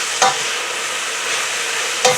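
Kale and turnip greens seasoned with salt and black pepper sizzle in olive oil, a steady close hiss broken by two brief stirring clatters.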